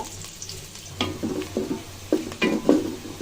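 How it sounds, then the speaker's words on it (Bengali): A cup of onions frying in hot oil for chicken biryani, with a steady sizzle broken by several close scraping stirs of a spatula against the pan, no speech. "তেলটা গরম হয়ে গেলে দিয়ে দিব পেঁয়াজ পেঁয়াজ নিয়েছি এক কাপ পেঁয়াজটা ভালো করে বেস্তার কালার করে ভেজে নিব"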